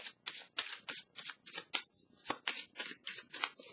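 Cards are shuffled and drawn from a deck during a card reading: about ten quick, crisp riffling bursts in a steady rhythm, close and fairly quiet, with no talking.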